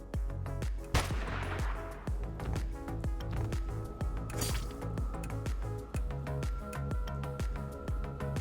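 Rapid gunfire from a party shooting at enemies in the video game Dustland Delivery, a dense, steady stream of close, loud shots and bursts over a rhythmic musical backdrop.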